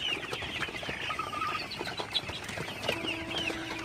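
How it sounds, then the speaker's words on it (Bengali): Golden super hybrid chickens at night softly cluck and scratch while eating feed, a faint, busy flock murmur with scattered short calls and occasional wing flutters. "সবগুলো মুরগি খাবার খাইতেছে।"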